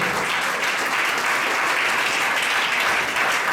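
A church congregation bursts into sustained, dense applause acclaiming the Lord, a loud, even wash of many hands clapping together that fills the hall without pause, with no voices clearly standing out.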